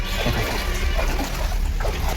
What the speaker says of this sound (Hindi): और अभी हम पानी में चल रहे हैं क्योंकि बारिश की वजह से पानी भर गया है यहाँ पर